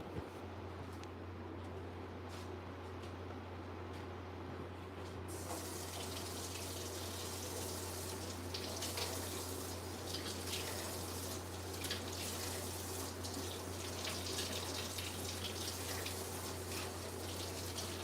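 Hot water runs steadily from a tap into a sink, a continuous rushing gush that grows louder and brighter partway through, with a low steady hum underneath.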